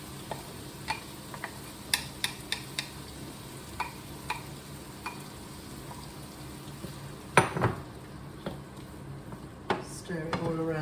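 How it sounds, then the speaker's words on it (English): Pasta and sauce stirred together in a pan on the hob, with scattered small clinks and scrapes of a utensil against the pan over a low steady sizzle, close and fairly quiet, with no talk. "Stir it all around and heat it all through."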